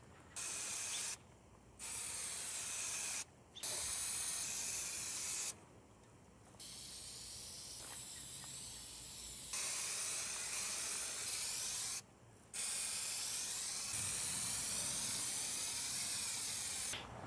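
A spray gun hisses in long steady bursts separated by short pauses, a continuous airy spray of paint onto engine parts repeated about six times.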